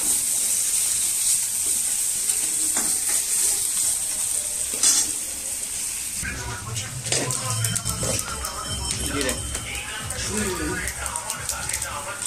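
Rohu fish pieces coated in a little flour sizzle in hot oil, a continuous close hiss that carries on under a person talking and clattering utensils in the second half.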